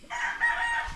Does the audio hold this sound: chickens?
yes